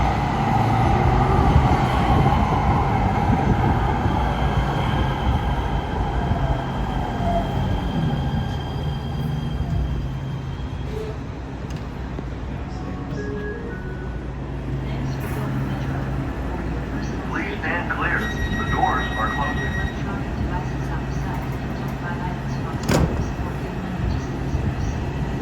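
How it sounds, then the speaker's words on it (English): An E Line light-rail train pulls into Expo/Bundy station in Los Angeles, its loud rolling rumble and rail noise lasting throughout with brief wheel squeals, while a person talks over it. "here comes one of the E-line trains"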